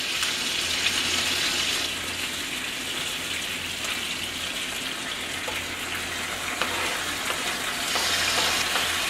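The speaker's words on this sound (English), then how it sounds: "You can hear them cooking, can't you?" Tomatoes frying in olive oil in a pan give a constant close sizzle and crackle, with occasional stirring noises over the steady hiss.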